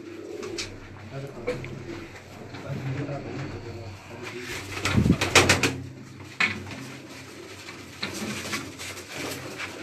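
Pigeons coo repeatedly in a backyard loft with a mated pair, soft calls recurring throughout with a louder flurry midway, while someone talks over them.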